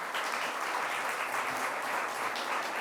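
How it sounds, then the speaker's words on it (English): An audience at a governor's speech on youth mental health applauds steadily, a dense wash of many hands clapping at moderate volume from a short distance, with no voices over it. "Let's give them a round of applause."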